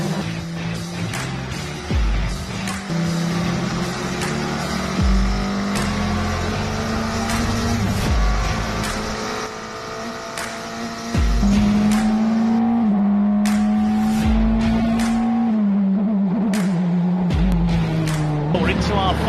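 Praga race cars in a racing simulation game, several engines droning and revving loudly close by, with shifting pitch as cars close on each other; a commentator talks throughout.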